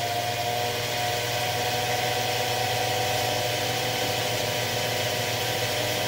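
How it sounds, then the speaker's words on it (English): A G0704 milling machine motor with belt drive runs steadily at low speed, a constant close hum with an even, tonal drone and no pauses. "Even if we spin it up, actually turn the motors on, there's 200 RPM."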